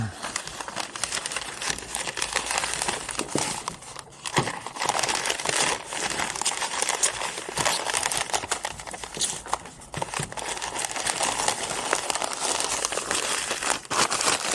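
Paper crinkles and crumples continuously while gladiolus bulbs are packed into a box, with dense, close rustling, tearing and crushing noises that keep going without a break.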